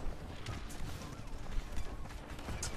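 Horse hooves clip-clop quickly in the video game Paladins as a mount runs, a busy rhythmic patter mixed with game noise and bursts of effects.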